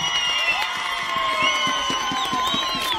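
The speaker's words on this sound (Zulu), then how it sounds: "ake sibashayele ihlombe bengakangeni" A lively crowd cheers, whoops and applauds for a group of young male singers, a dense continuous roar of voices and clapping held at steady loudness throughout, with faint shouts rising above it.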